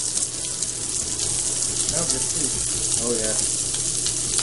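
Lollipop lamb chops fry in olive oil in a pan, making a steady, loud sizzle throughout, with a brief voice speaking over it.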